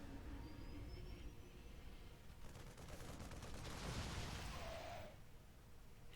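A Widow Mine detonating in StarCraft II, a loud rumbling blast with crackling bursts over dense, continuous game battle noise.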